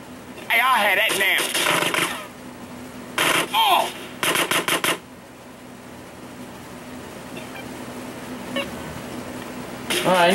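Bursts of gunfire from Grand Theft Auto San Andreas, several loud short volleys in the first five seconds and another near the end, with someone talking between and over the shots.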